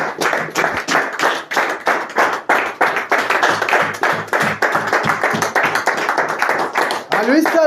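A congregation at a revival worship gathering claps loudly in acclaim of the Lord Jesus, a fast, dense, rhythmic burst of hands close by, with voices calling out alongside.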